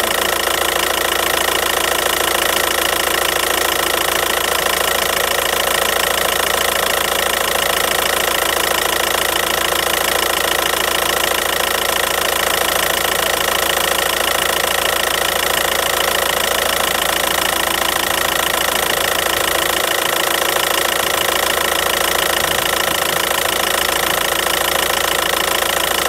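VW Audi TDI diesel engine idles steadily and loudly during an injector purge, a constant dense clatter with no pauses or speech.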